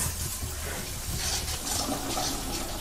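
Toilet flushing in a Roblox video game, a steady rushing, gurgling swirl of water running at moderate loudness for a few seconds.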